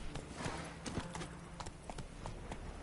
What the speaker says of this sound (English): Where's me horse? Come here, horsey.